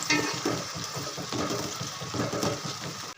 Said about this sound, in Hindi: चम्मच की मदद से इसको अच्छे से मिक्स कर लेंगे।